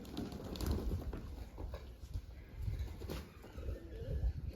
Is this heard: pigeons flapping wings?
yes